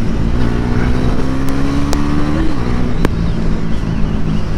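A Bajaj Pulsar NS 400Z motorcycle engine pulls steadily under acceleration, its tone climbing smoothly over about two seconds before easing off, loud and continuous with wind rush around it.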